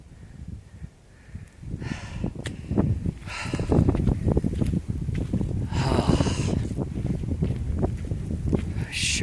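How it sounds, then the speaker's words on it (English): Wind gusting across a cloud-covered mountain trail on a winter hike, a steady broadband rush that swells after a couple of seconds and stays strong, with rustling and crackling handling noise near the microphone. "That's wind blowing."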